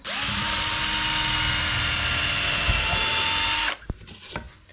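A power drill driving screws into a French cleat in a home workshop, one loud sustained whir that runs steadily for several seconds, then cuts off, followed by a few faint knocks and handling sounds.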